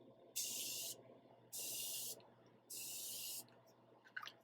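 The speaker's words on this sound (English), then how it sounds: "I love that I can cover my entire face with just 3 sprays" Facial setting mist pumped from a spray bottle in three separate bursts of steady hiss, each lasting about half a second or more with short gaps between, fairly close, ending with a faint clatter.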